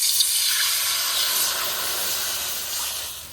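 Water pours steadily into a wok on a cooking fire, a continuous hissing rush that stays even and close for a few seconds before easing slightly.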